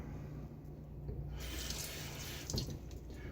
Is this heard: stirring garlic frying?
no